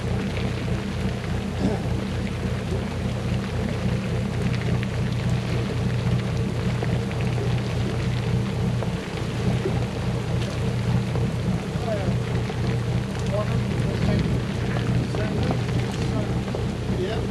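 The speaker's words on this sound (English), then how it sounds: "I think it's raining." Steady rain hisses continuously over a low engine-like rumble, dense and even throughout, with faint voices mixed in underneath.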